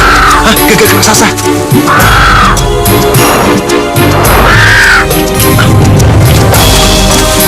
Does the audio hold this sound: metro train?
no